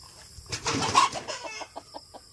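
A hen that has been laying eggs on a Philippine farm flaps and scuffles in a short flurry, then gives a run of soft, evenly spaced clucks close by.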